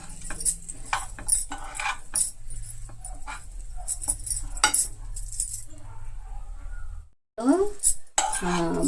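Utensils clink and scrape against a pan as food is stirred at the end of cooking a rice-based dish with the stove switched off, a string of close metallic taps and scrapes with a short silent break near the end.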